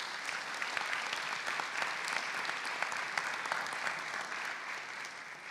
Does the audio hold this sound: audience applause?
yes